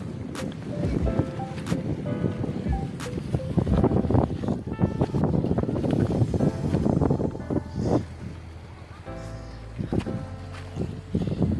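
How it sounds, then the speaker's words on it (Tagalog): Strong gusting wind high on a rocky mountain on an island buffets the microphone with loud, uneven roaring bursts, rising and falling, with occasional clicks. "hindi nyo ako naririnig dahil sa lakas ng hangin dito sa taas ng mabatong bundok"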